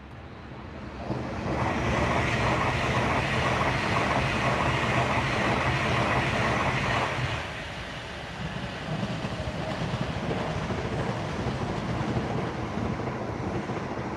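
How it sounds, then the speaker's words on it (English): A Pendolino Class 390 electric train passes trackside with a steady, loud rushing roar and faint rail clatter, sustained for the full stretch and easing slightly partway through as it goes by. "And this is a Pendolino class 390."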